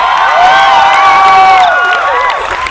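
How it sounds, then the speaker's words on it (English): Large crowd at a 2012 campaign rally at Broward College cheering, whooping and applauding, a loud, sustained roar with many shrill voices rising and falling throughout. "Let's give her a round of applause"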